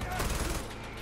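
A short, dense stretch of rapid gunfire in the video game Far Cry 4, during a fortress assault, loud at first and then tapering slightly, with a voice faintly mixed underneath.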